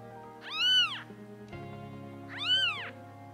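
Newborn kittens meow in two high, wavering cries, close and fairly loud, with a quiet pause between them and a low hum underneath.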